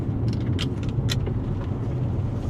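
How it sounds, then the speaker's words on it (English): A Toyota RAV4 rolls along a rough road in Phoenix, with a steady low rumble and a couple of brief rattling jolts. "Going over some kind of rough roads as well here"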